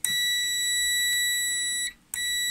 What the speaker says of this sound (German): Ich habe jetzt den Piepser rausgeholt hier.